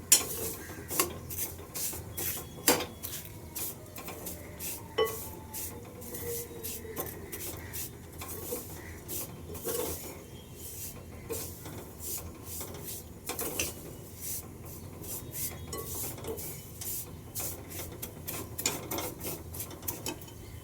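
Vermicelli dry-roasting in a pan for kheer, quiet scraping and stirring with a utensil, irregular taps and rubs against the pan repeating softly throughout, no talk.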